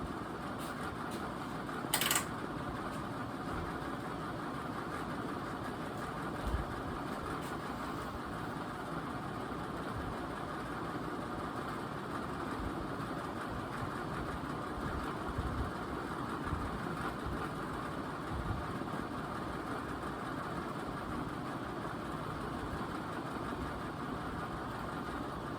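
A NuTone Slimline ceiling fan turns at its slowest setting, giving off a steady, even whir and low hum that holds unchanged throughout with no voices.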